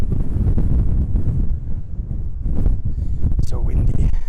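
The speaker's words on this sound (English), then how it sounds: "So windy." Strong wind blowing at an outdoor desert site, a loud, steady roaring rumble buffeting the microphone throughout, with brief gusts swelling louder.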